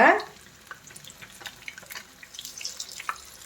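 Chicken pieces frying in hot oil, a soft continuous crackle and sizzle with scattered pops, fairly close and moderately quiet, while someone talks over it.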